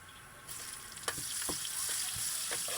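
Butter shrimp sizzle and crackle steadily in a hot pan, a soft continuous frying hiss broken by a few sharp pops, with no talking.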